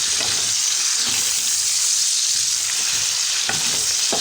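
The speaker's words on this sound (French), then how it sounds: "Dans une poêle contenant de l'huile chaude, je fais revenir les oignons, la tomate fraîche," Onions and fresh tomato sauté in hot oil in a pan for an eggplant sauce, producing a loud, dense, continuous sizzle with occasional stirring clicks, close by and without talk.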